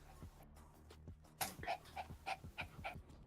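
Small dog Gizmo pants close to the microphone, giving quick rhythmic huffs of breath in a steady series with faint snuffling between them.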